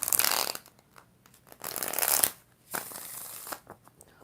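Tarot cards being shuffled in several separate bursts of riffling and flicking, close and fairly crisp, with short quiet gaps between them and no talking.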